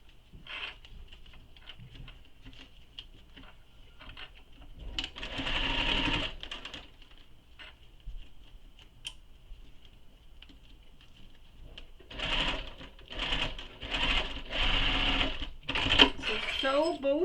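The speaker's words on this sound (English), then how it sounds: "So we're going to sew these short edges using the seam allowance given in the pattern." A sewing machine sews the short edges of a handmade convertible bag, with a quiet stretch followed by one steady burst of whirring and then a longer run of close stitching broken by brief pauses and small clicks.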